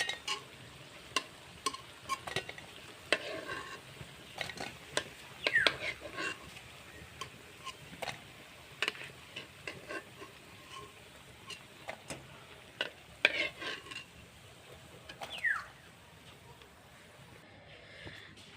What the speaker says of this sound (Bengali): পাকোড়াগুলো লাল লাল করে ভাজা হয়ে গেছে